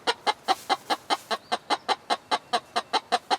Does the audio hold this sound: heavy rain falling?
no